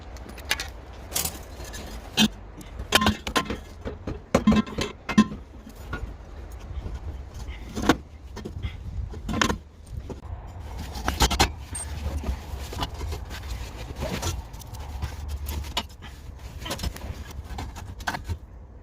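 Mechanic fitting a Ninja catback exhaust system onto a Subaru, with irregular metallic clanks, knocks and scrapes of parts and bolts, some sharp close hits and quieter rattles in between.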